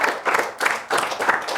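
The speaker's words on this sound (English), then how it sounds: "I would just like to give one more round of applause for AI Porn Machine" Studio audience applause at a puppet comedy show, steady clapping from a crowd that swells in three or four close waves, with no voices over it.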